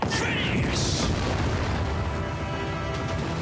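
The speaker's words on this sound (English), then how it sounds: "Those are some good pyrotechnics" Pyrotechnic explosions go off in a King-Ohger tokusatsu show as a dense, loud, continuous roar of booming blasts and crackling bursts, with a couple of brighter hissing flares near the start.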